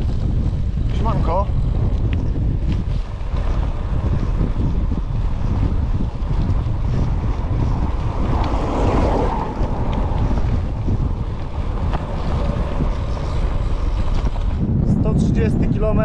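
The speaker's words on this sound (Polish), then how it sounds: "Ale jest takie wiatrzysko, że w ogóle się nie da jechać." Strong wind buffets the microphone in a steady, loud roar with a low rumble throughout while cycling on the North Coast 500, joined briefly by a voice near the end.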